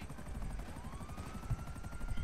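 A news helicopter in Grand Theft Auto is failing, its engine giving a steady, dense rotor thrum with a faint rising whine, loud and continuous with no speech over it.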